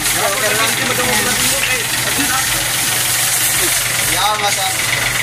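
A freshly washed motorcycle's engine idles nearby behind a shop with a steady, knocking rumble, while people talk over it.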